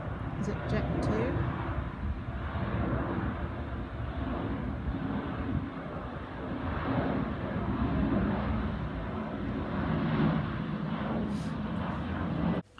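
Jet2 passenger airliner passes overhead in Fuerteventura, a steady broadband engine roar that persists for many seconds, moderately distant, with faint rustling nearby.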